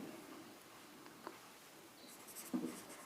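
Pen scratching on paper while working a class 10 NCERT surface area and volume problem about a pen holder, faint and sparse with soft scribbling strokes and a slightly louder burst near the end, no talking.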